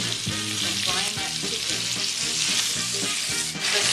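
Sausage sizzles and crackles steadily in a pot for Cajun chicken gumbo, with a spoon stirring and scraping in a regular rhythm, close and continuous without talk.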